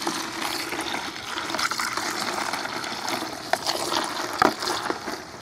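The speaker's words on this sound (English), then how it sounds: "I'm going to pour it in here and get the sudsing process started." Warm water pours steadily into a dish basin to start suds for washing dishes, a continuous close splashing gush with a few brief clinks near the end.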